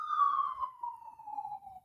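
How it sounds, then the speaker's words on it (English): An ambulance siren wails past, its tone sliding steadily lower as the vehicle moves away; fairly loud and clear, with no voices over it. "Pause for the ambulance"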